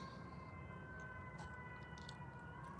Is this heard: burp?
no